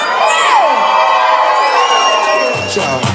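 A large crowd at a wedding celebration at Our Lady of Light screams, whoops and cheers loudly and continuously, with high shrieks riding over the roar and a voice briefly emerging near the end.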